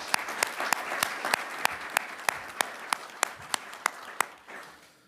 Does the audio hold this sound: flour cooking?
no